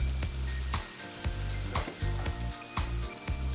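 Pasta being tossed with sizzling guanciale in a pan for carbonara, with a steady fry hiss under a series of regular stirring scrapes and clacks, close and alone.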